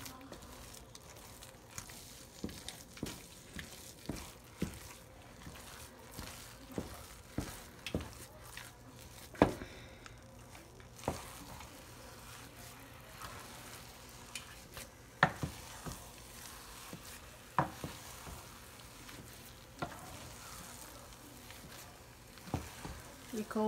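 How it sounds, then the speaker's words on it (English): Cornmeal being stirred into water in a pot for fufu, repeated soft scraping and knocking strokes of a spoon at an uneven rhythm, fairly quiet and close, with occasional talk. "And I just mix them very well."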